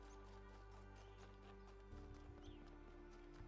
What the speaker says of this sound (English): Oh, it sounds like a horse, and it's a deer.